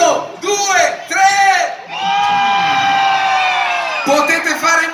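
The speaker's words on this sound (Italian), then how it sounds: "voglio sentire un urlo più forte che potete al mio 3" A crowd at a New Year celebration yells as loudly as it can on a count of three. There are several long, loud bursts of massed shouting and whooping, with short breaks between them.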